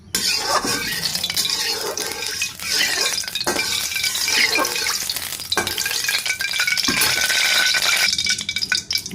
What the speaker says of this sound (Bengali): রান্না করার জন্য প্রথমে আমি পরিমাণ মতো তেল দিয়ে দেব